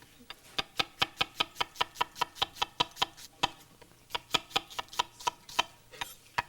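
Rapid, steady knife chops through onion on a cutting board, a quick run of sharp strikes with a brief pause partway through, close and crisp.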